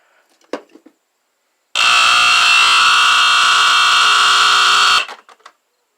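A 1970s ESL 709-2 smoke alarm blares a loud, continuous harsh electronic buzz for about three seconds, stopping abruptly, with brief faint handling clicks before and after.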